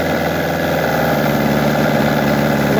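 A running engine idles steadily with its radiator connected into the cooling circuit, a loud, continuous low rumble with a rhythmic mechanical pulse and no talk over it.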